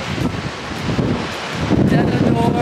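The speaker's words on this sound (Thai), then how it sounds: "เพราะว่าลมมันแรงมากเหลือเกิน" Strong wind buffets a beach on the Jurassic Coast in the south of England, a continuous roaring gusty rumble with microphone wind noise that swells louder toward the end.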